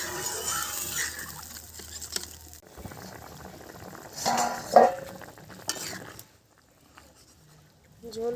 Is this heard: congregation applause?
no